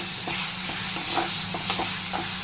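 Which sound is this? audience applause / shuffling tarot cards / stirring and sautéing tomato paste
stirring and sautéing tomato paste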